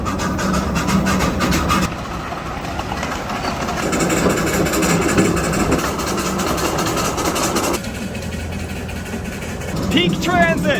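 A small 1958 steam engine built by Crown Metal Products, a prototype, runs with a steady mechanical chugging and rumble under continuous talk, with a brief whistle-like squeal near the end.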